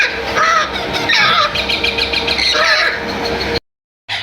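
Ringneck parakeet chicks calling at a Sunday bird market in Bahawalpur, a run of harsh, repeated squawks close to the listener that drops out abruptly near the end.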